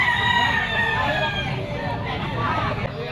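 A stag rooster crows at a busy pet market, a single loud, drawn-out crow close by over a background of crowd chatter and nearby voices.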